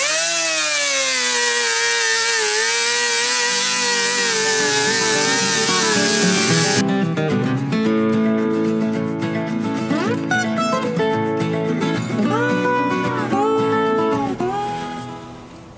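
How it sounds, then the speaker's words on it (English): A rotary sanding tool grinding rust off an Estwing camping axe, a loud, close, continuous whine whose pitch wavers and bogs down as it bites into the metal, then winds down at the end. "now I have this rotary sanding tool. It really moves a lot of material quickly"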